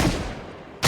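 A single loud gunshot in the video game Project Zomboid bursts out sharply at the end, after the fading tail of an earlier blast.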